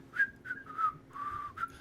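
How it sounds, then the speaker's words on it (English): Someone whistles a short tune indoors, a few wavering notes with brief gaps between them, fairly faint and with no talking. "you hear someone whistling inside"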